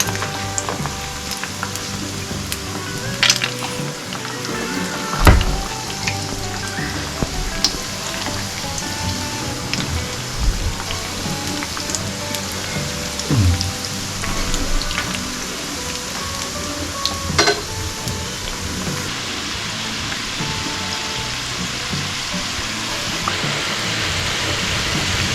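Leftover-rice balls fry slowly in oil over low heat, giving a steady, fine crackling sizzle with scattered pops and occasional clatters of handling throughout.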